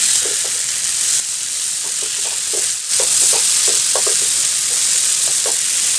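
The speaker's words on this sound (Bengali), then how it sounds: "দেখেন ভাজি করা কিন্তু আমাদের হয়ে গেছে।" Pointed gourd (potol) slices frying in a hot pan give a steady, loud sizzle, with short bursts of crackle and stirring scattered across it and no speech.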